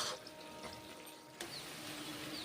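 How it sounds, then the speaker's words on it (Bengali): A little water is poured into a cooking pot of drumstick, green banana and lentil curry with panch phoron. A soft hiss of liquid rises after a brief quieter moment, faint and steady, with no voices. "জল দিয়েছি, সামান্য পরিমাণে জল দিয়েছি"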